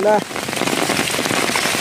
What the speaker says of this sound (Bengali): সকাল থেকে বৃষ্টি হয়ে যাচ্ছে, ছাড়ে না।